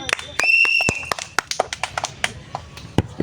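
An outdoor audience at a playful village game of kicking a ball into a drum claps loudly in a steady run of sharp claps, with talk and a short whistle-like tone early on.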